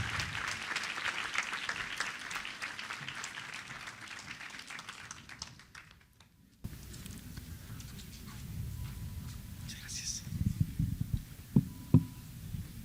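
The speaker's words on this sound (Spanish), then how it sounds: "démosle otro fuerte aplauso a nuestro invitado de honor" Audience applause at a conference on chain of custody and digital evidence fills the room with dense clapping for about six seconds and tapers away, followed by a quieter hall with scattered knocks and shuffling.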